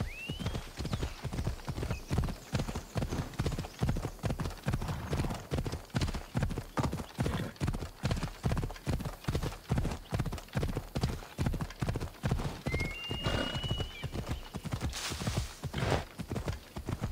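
A horse galloping in Assassin's Creed Odyssey, a steady fast clip-clop of hooves running throughout, close and loud, with a couple of brief whinnies or calls over it.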